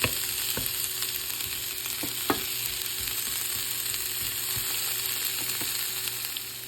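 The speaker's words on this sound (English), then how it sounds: "I am sauteing my onions here" Onions sautéing in a pan give a continuous, even sizzle close by, marked with a few light clicks of stirring and a faint steady hum underneath, with no voices.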